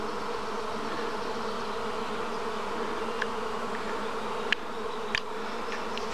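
A large swarm of honeybees buzzes in a dense, continuous drone, close and steady throughout, with a few faint clicks and knocks over the hum.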